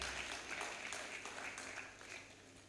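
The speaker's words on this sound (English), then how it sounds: "Clap for her." A church congregation applauding, a soft continuous wash of clapping heard from a distance, steady throughout.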